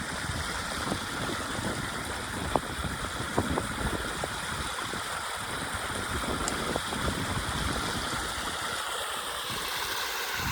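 Irrigation water runs steadily into a groundnut field, a continuous broad rushing and gurgling wash with a few faint clicks and no voices.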